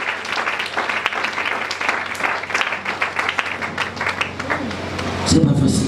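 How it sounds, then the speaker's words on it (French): A church congregation applauds for the Lord during a French-language sermon, dense steady clapping and crowd noise filling the hall for several seconds, with voices mixed in and a louder burst near the end. "Est-ce qu'on peut acclamer pour le Seigneur?"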